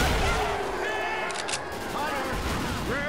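Rapid gunfire from a Left 4 Dead 2 firefight, dense and continuous over battle music and game effects, with players talking over it.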